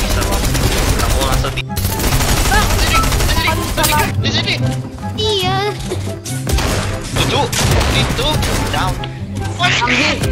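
Dense bursts of rapid automatic gunfire from a Fortnite match, loud and near, with a brief gap early on and shouting voices mixed over the shooting.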